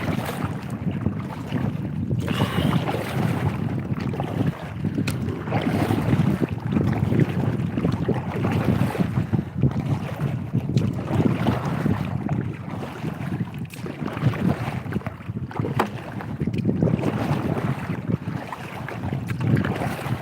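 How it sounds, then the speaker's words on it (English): Steady wind rushing across a lake, mixed with water lapping against a kayak, a continuous rough broadband roar that stays loud and close throughout with no talking. "Wind is picking up."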